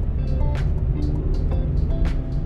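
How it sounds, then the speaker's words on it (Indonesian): A 2023 Suzuki XL7 Hybrid accelerates, a steady low engine and road drone heard from inside the cabin, with faint rising tonal whine and a few soft clicks over the continuous rumble. "Wah, depan lagi kosong, emang disuruh coba akselerasi, kita cobain ya."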